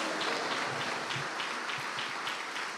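A church congregation at a Spanish-language service gives God a steady offering of applause, a dense, even wash of clapping that stays fairly quiet and unbroken throughout, with no voices standing out.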